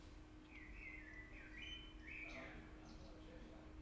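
Birdsong ambience from the Age of Empires II game running in the background, with repeated chirps and whistled calls over a steady low hum and room noise, moderately faint throughout.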